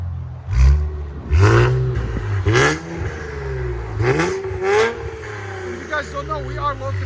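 A catless 2017 Infiniti Q60 Red Sport 3.0L twin-turbo V6 with its exhaust valves open, blipped several times in a row with loud, snarling rises and falls near the car, and a voice briefly talking toward the end.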